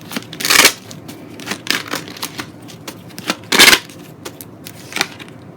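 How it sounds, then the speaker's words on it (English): Tarot cards are shuffled and laid out on a table in a series of close, crisp riffling bursts and light card slaps, with two longer shuffles standing out and no voice. "so I can lay out some more cards"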